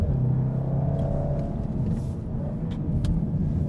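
A 2015 VW Golf R is driven hard through a series of corners, heard from inside the cabin. A steady, fairly loud engine rumble and road noise fill the whole stretch, with only faint brief shifts in tone and no talking.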